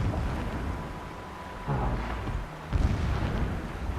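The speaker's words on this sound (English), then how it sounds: "What could those ominous background noises be, I wonder? Sounds like something big. Sounds like explosions." Distant explosions rumble in the video game Horizon Zero Dawn, a continuous low, heavy roar with two deeper booms swelling partway through, steady and unaccompanied by talk.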